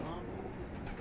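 A domestic pigeon, a gifted house bird, coos softly and continuously in close range amid a dense noisy background, with faint voices nearby.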